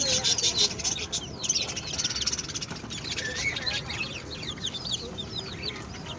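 Chicks peep constantly in high chirps around a mother hen clucking on a rooftop farm in Chennai, close and busy, with a person talking over the birds.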